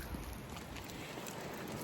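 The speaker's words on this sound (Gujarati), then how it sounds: "જોરદાર વરસાદ છે અત્યારે પવન એવો છે" Steady, loud wash of heavy rain with gusting wind noise buffeting the microphone, recorded at a flat during flooding, continuous throughout with no voices.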